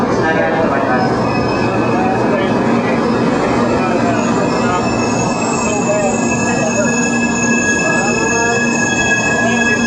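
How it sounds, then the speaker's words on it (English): Shinkansen bullet train running from Osaka toward Nagoya, a steady loud interior rumble with rail and wheel noise and faint high whines, with people talking throughout. "On the train to Nagoya."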